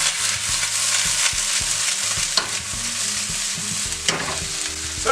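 Tofu frying in a stir-fry pan for a vegan stir fry, a steady close sizzle and crackle running throughout with brief scraping stirs and a few soft utensil knocks.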